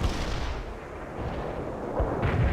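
Artillery and gunfire in the World in Conflict video game, continuous rumbling barrage with dull distant booms and a few sharper blasts, dense and steady throughout.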